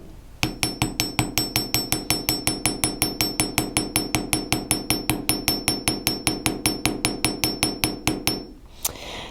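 Metal jewelry wire struck with a hammer in a steady, rapid series of about forty sharp ringing blows that are close and loud and run for roughly eight seconds, then stop.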